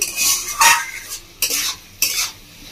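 Tomato being stirred and cooked down for chutney, with repeated close, loud scrapes of a spatula in the pan, roughly one every half second, over a soft sizzle.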